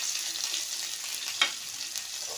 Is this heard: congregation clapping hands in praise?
no